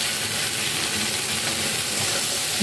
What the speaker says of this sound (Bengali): ভালো করে নেড়ে নেড়ে একটু ভাজা ভাজা করে নিতে হবে,